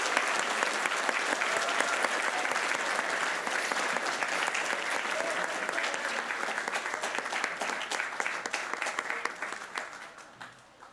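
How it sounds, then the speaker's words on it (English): Audience applause at a championship award ceremony for a runner-up, a full, sustained round of clapping that stays dense for most of its length and thins out toward the close. "Full round of applause for that"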